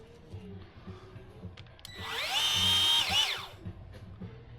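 A small motorized grease gun whirs in one short burst of a second or so, rising and falling, close by over quiet background noise, during rear lift work on a Porsche 955/957.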